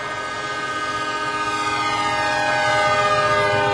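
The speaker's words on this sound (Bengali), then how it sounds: "এদিকে ট্রেন ছেড়ে দিচ্ছে।" A train pulling out of a station sounds a long, steady horn with several layered tones, loud and continuous throughout and swelling slightly toward the end, with rumbling noise underneath.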